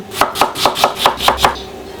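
An onion being sliced on a cutting board: six quick, evenly spaced knife strokes close up, crisp and alone.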